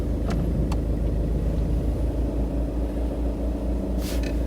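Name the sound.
Volkswagen Tiguan engine starting and idling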